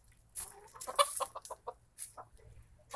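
Egg-laying hens in a coop, clucking in quick repeated bursts, close and clear with a quiet background.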